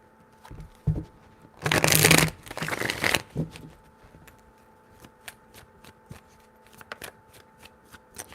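Tarot cards shuffled by hand, close up: a couple of soft taps, then a loud riffling burst lasting over a second, followed by scattered light clicks of cards, with no talking.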